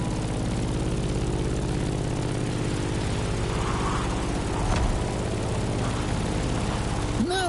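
Propeller airplane flying in The Crew Motorfest on PS5: a loud, steady droning engine with a layered harmonic hum that holds for the whole stretch, with a brief swish near the end.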